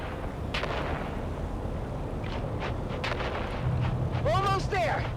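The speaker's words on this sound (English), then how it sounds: "On 3, we grenade and move! 3, 2, grenades out!" Grenade blasts in the video game Dune Awakening: booming bursts over a dense, noisy combat bed, with a rising whistling sweep near the end and voices calling out under the din.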